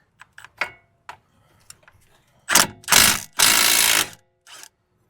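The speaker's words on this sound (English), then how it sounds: "I'm gonna put my wrench on this side so I can get my impact on this side to take off the" An impact wrench takes off a shock absorber nut on a 2003-2009 Lexus RX330/350. Two loud close bursts of hammering follow several light metallic taps and clicks.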